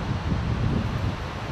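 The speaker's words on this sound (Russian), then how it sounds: "те же звуки, шум ветра," Low, steady wind rushes through the mountains of the Kurtatin gorge, a continuous rumbling buffet with a soft rustle on top and no breaks.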